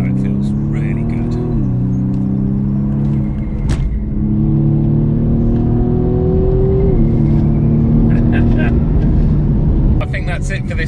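A BMW M135i with its rear silencer deleted idles and revs, giving a loud, close engine drone that rises and falls in pitch across several blips, with someone talking over it.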